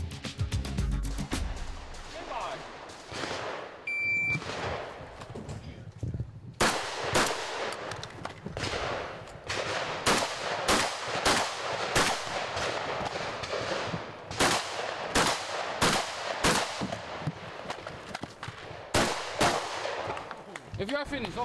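Shotgun blasts crack out in quick bursts during a timed competitive shooting run, sharp repeated reports at mid distance with brief pauses between strings, over faint outdoor background.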